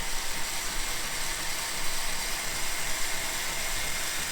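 A Radius Master knife-making belt grinder from Australia runs steadily, its belt and motor producing a continuous close whirring hum with a faint mechanical rattle and no voices.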